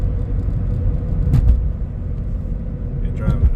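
Loud, steady low road roar from Falken Azenis RT615K performance tires on a moving car, a continuous heavy drone like a big truck, with a couple of brief bumps and talk over it.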